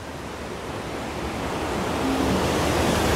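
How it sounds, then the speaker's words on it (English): Roaring waterfall at a Hellendoorn amusement park, heard as a steady, dense rush of falling water that swells slightly louder toward the end, with no talking. "that waterfall though!"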